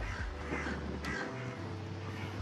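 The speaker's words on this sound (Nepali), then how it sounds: "युकेमा नि कागहरू काक भनेरै कराउँछ क्या।" A crow caws faintly in the distance over a low, steady outdoor hum, in the UK.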